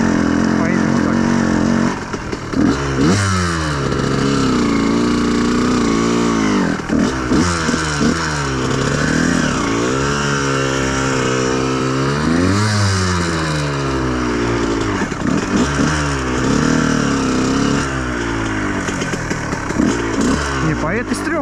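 A Honda CR125R two-stroke enduro motorcycle rides over sandy ground, its engine buzzing and revving up and down in repeated sweeps, loud and close throughout, with occasional voice underneath.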